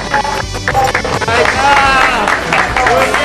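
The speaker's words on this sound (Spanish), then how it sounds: "Están nerviosos, por eso un aplauso" An audience at a community charity event applauds, sustained clapping mixed with crowd babble and a voice speaking over it.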